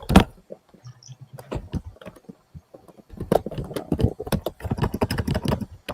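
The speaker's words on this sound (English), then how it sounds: "Who's aggressively typing?" Someone hammers hard on a computer keyboard, sharp, close clicks in irregular bursts with a pause in the middle before a denser flurry of keystrokes.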